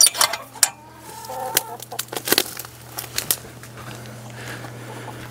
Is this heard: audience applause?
no